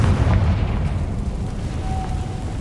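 A Confringo blasting spell explosion in a game, a loud, sustained boom with heavy low rumble that fades only slightly over a few seconds, with no talk over it.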